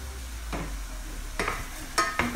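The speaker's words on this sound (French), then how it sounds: "dans la casserole, j'ai mis que des oignons." Onions sizzle quietly in a saucepan, broken by a few sharp stirring scrapes and clatters toward the end.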